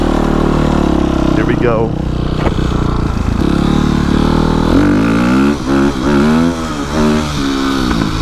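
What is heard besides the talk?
2007 dirt bike engine starting and revving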